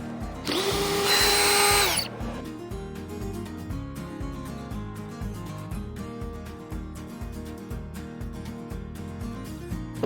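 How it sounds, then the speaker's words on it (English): A power drill spins out the four bolts holding an RV side mirror, a loud continuous whir for about two seconds, then drops to faint background sound for the rest. "You can now take off the 4 bolts that hold it on."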